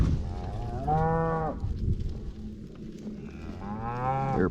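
Two long, deep cow moos, one at the start and another near the end, with outdoor background noise between them, at a fall cattle gather north of Reno, Nevada.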